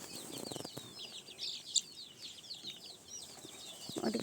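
Young country chicks peep and cluck softly outdoors while dust-bathing in soil, a faint, scattered series of short chirps with occasional wing flaps against quiet background noise.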